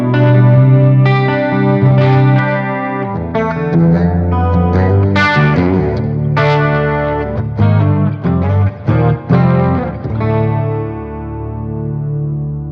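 An electric guitar runs through the detune effect of a Zoom G3Xn multi-effects processor, playing a loud, close melodic line with thick, shimmering doubled tones and no talking.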